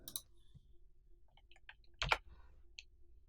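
A computer mouse gives a few faint, close clicks in a quiet room, with one sharper double click standing out in the middle.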